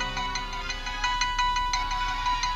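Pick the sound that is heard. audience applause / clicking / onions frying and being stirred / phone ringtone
phone ringtone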